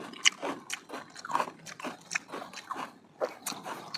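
Crunchy bites and chewing of chilled candied jujube with milk, a series of crisp crackling crunches in irregular rhythm, close and clear, with no talk.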